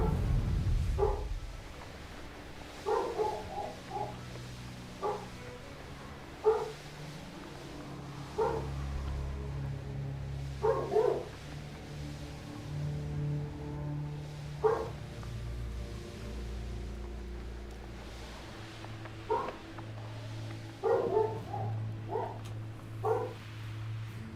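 A dog barks in short, scattered woofs and yips, spaced out over a steady low hum of background music and game sounds, with no talking.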